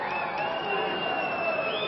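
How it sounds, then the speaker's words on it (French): A large crowd at a wrestling match cheers and applauds a wrestler's entrance continuously, a dense, steady roar of clapping and shouts filling a big hall. "Jacques de la Sartès, le voici, très applaudi,"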